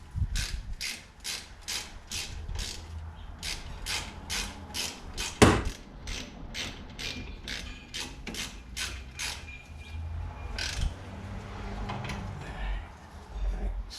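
Rapid ratchet clicks from a hand ratchet tightening brake bolts on a Mazda 3 come in close bursts of regular ticks, with a sharp metallic clank partway through and softer clicking afterward.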